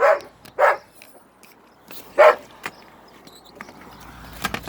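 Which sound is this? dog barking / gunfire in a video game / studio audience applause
dog barking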